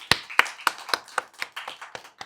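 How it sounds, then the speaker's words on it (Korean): Rhythmic congregational clapping at an early-morning special prayer service in a church, a steady series of about ten sharp claps in even beat, close and clear with no talking over it. "하나님께 영광의 박수를 돌리기 바랍니다."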